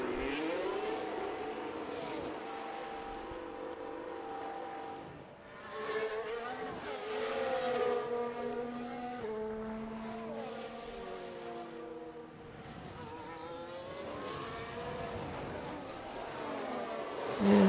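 Valtteri Bottas's Formula 1 car rolls into the pit lane, its high engine note rising and falling in pitch through gear changes as it slows, steady and close for the whole stretch.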